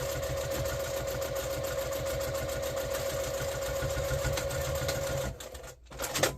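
A sewing machine back stitches a reusable heat pack cover, a steady close mechanical whir running without pause for about five seconds before it stops abruptly.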